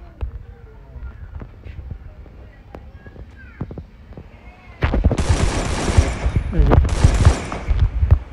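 Gunfire in the mobile shooter game Free Fire: after a quieter stretch with a few faint clicks, loud rapid automatic bursts break out and continue in sharp clusters to the end.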